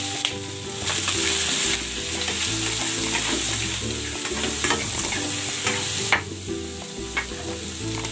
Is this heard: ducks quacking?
no